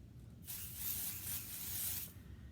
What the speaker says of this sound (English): I'm gonna spray it about 6 inches from my piece of paper and just a nice light coat.